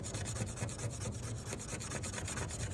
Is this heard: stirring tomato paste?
no